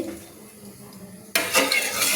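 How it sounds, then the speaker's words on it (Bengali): A spatula stirs heating oil in a kadai before frying mourola fish: quiet low rumble, then a sudden burst of scraping, clinking metal and faint sizzle that carries on to the end. "আমি তেলটা দেখুন খুঁটি দিয়ে আমি কড়াইতে তেল নেড়ে নিলাম"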